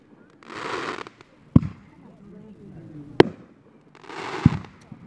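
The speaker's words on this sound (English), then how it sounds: "I'm really looking at the fireworks" Fireworks burst in an outdoor display: sharp cracking bangs punctuate several broad rumbling whooshes, some near and loud, with faint crowd murmur in between.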